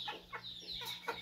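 A chicken about to be slaughtered for dinner gives several short, close clucks and squawks in quick succession, ending with a louder abrupt burst.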